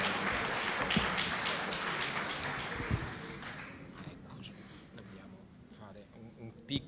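Audience applause after a lecture on the Divina Commedia by a historian, loud at first with a few sharp claps, then tapering off into fainter scattered clapping as a voice comes in.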